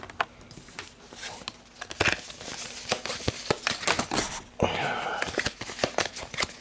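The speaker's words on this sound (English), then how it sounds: "We'll shuffle them up." Marvel Legendary game cards are shuffled by hand in a series of rapid riffling and tapping bursts, close and fairly loud, with a longer riffle late in the sequence.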